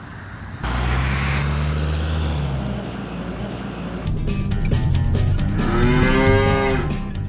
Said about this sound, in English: We are being held up by a large herd of cattle.